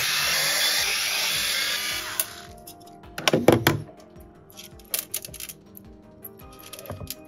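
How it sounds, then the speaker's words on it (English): A T10 screwdriver backs silver screws out of an Xbox Series S console during an HDMI repair, giving a few sharp clicks and light metallic ticks after a stretch of broad hiss, with no talking. "Now we can switch back to our T10 and take out all of the silver screws."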